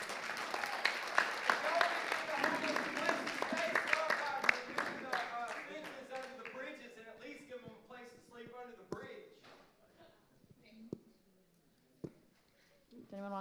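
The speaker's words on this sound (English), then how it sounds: "round of applause for her" Audience applause at a Nashville mayoral housing forum, a dense burst of clapping for the first few seconds that thins into scattered claps and fades, with voices mixed in.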